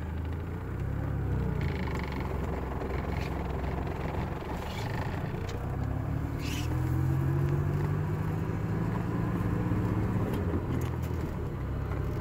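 Maserati Biturbo 425i rolling out slowly on a road, a steady low engine rumble with tyre and road noise holding throughout, close and continuous with a slight rise in pitch midway.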